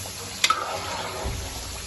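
Spinach and chicken (palak) cook in a hot pan with a steady sizzle and bubbling. A couple of sharp clinks or stirring taps come early, followed by soft low bubbling.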